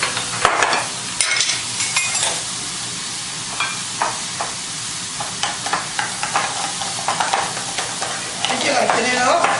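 Mashed potatoes are scraped and stirred in a pan beside chicken fried steak frying in oil, giving a continuous close sizzle punctuated by repeated sharp scraping strokes and occasional utensil knocks.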